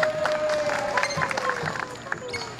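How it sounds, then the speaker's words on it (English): A crowd at a Pennsylvania Renaissance faire birds of prey show applauds in a fairly faint, scattered patter, with a thin whistling tone and murmured crowd noise. "One more big round of applause."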